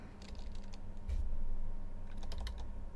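Keys are typed on a computer keyboard to enter a command at a command prompt, a quick run of crisp clicks and taps that comes in two bursts with a pause between, with no talking.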